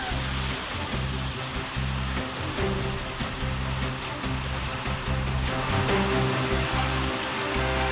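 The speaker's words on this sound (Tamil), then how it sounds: "காற்றுடன் கூடிய கனமழை பெய்தது" Heavy rain driven by wind pours down steadily in a broad, constant wash of hiss and patter, loud and unbroken throughout, with a low rumble underneath.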